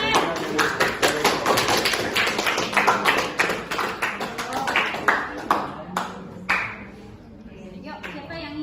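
A class of Indonesian-language students claps in a classroom, a dense run of close, sharp hand claps that slows into sparse individual claps near the end, with some voices underneath.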